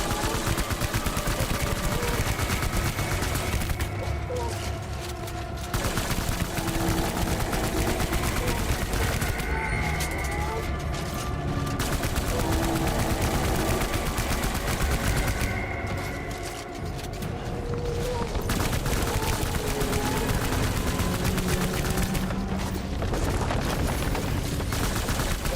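Sustained video-game gunfire in Death Stranding, dense bursts of automatic shots and scattered single reports over an ongoing game soundtrack, loud and continuous with brief lulls.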